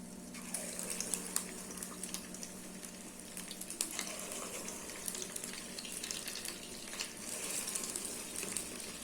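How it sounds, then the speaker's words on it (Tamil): Spoonfuls of rice-and-lentil kara vada batter hit hot oil and fry with a steady, bright crackling sizzle that swells and dips throughout, loud and close with no voices. "ஆயில் சூடாயிடுச்சு. இப்போ வந்து நம்ம இந்த மாவு எடுத்து சும்மா கரண்டிலே எடுத்து அப்படியே விட வேண்டியது தான்."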